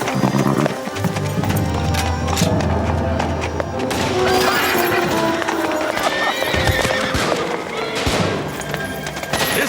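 Cavalry horses of a squad of Uhlans gallop in a steady clip-clop of hooves with loud neighing and whinnying over a dense, busy battle din, with crackling bursts that may be gunfire.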